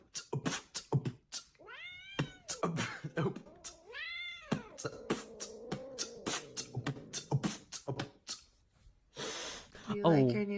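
A grumpy cat just woken from a nap lets out several drawn, wavering meows close by, mixed with snorts and sharp clicks, while a person talks over and between the cries.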